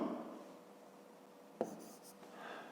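Pen or pencil writing numbers down on paper during a 5th-grade math subtraction exercise, faint scratchy strokes with a single sharp tap partway through, heard in a quiet room.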